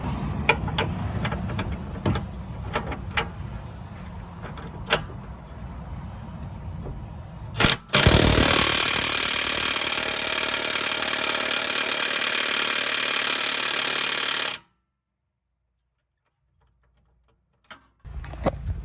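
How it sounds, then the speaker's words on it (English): An impact wrench hammering at a stuck bolt on a truck's tow bucket suspension arm, a loud steady rattling burst of several seconds after some clanking, then silence and faint handling noises. "I'm gonna try with the impact real quick"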